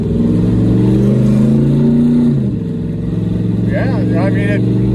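A 700 HP Ford Mustang engine roars loudly and close from inside the car, holding a deep throaty drone that dips as it shifts, with speech heard over it.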